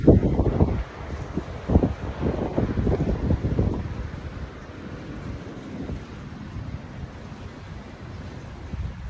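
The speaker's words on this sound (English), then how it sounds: "The wind's getting up, which is beautiful, but the camera is rocking." Wind gusting outdoors in Cambodia, buffeting the microphone with loud rumbling bursts early on that ease into a steadier, softer rush of air.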